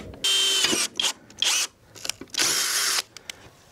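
A power drill boring a hole while fitting a backup power setup at home, several loud whining bursts of varying length separated by short pauses, close up, with no talk.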